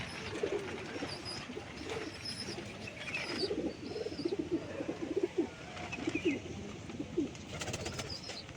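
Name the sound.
pigeons cooing, female pigeon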